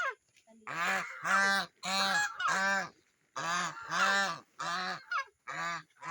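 Farm geese honking close by in a quick series of about nine loud, nasal calls with short pauses between them and no talk over them.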